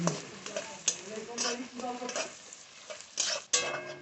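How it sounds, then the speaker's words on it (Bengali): Onions stirred and fried in oil in a kadai while cooking a spicy chicken kosha, heard as close, intermittent scraping strokes of a spoon against the pan over a soft sizzle. "পেঁয়াজটাকে দিয়ে আমি খুব ভালোভাবে তেলের সঙ্গে নেড়ে নেবো পেঁয়াজটা একটু ভাজা ভাজা হওয়া পর্যন্ত"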